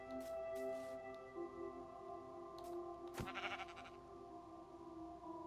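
Sheep bleating in Minecraft, a few wavering bleats over steady game background tones, with one sharper sound partway through; no voices.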